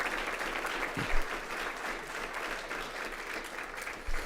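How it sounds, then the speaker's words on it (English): A room of people at a school board meeting applauds students, a dense, even wash of clapping from many hands that holds steady for several seconds, with a couple of sharper knocks near the start and end. "Let's give her a round of applause"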